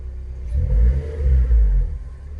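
A Suzuki Swift ZC31S engine with a rough-running fault revs unevenly in two loud, close surges, dropping back between them with a ragged, sputtering tone and no voices.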